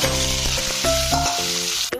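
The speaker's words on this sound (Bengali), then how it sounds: "তেল আর একটু নুন দিয়ে দিয়েছি, যাতে তেলটা না ছিটকায় আলুগুলো ভাজার সময়" Loud, close frying sizzle of potatoes in hot oil with a little salt added, with a steady crackle and a few brief tonal squeaks from stirring.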